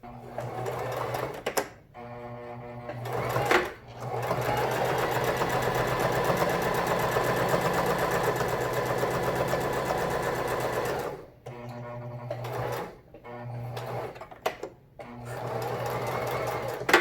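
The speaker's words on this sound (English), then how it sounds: "All right, now sew each one." Sewing machine stitching a fabric face mask, a close, steady mechanical whir in long runs broken by short pauses and stop-start bursts, with some speech between runs.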